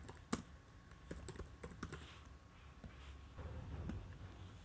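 Census data entered on a computer keyboard, with irregular bursts of quick, light key clicks and a sharper keystroke near the start, quiet and close, with no talk.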